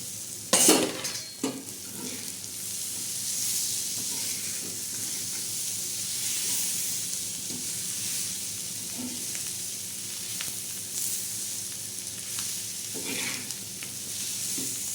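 Potatoes fry in a pan while being stirred, a constant close sizzle broken by a sharp clatter of a utensil early on and occasional scraping, with no voices.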